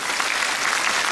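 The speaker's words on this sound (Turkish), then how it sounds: "Kocaman bir alkış alıyoruz." Graduation ceremony audience at a Quran course giving loud applause, dense continuous clapping from a crowd, close and steady over a short moment.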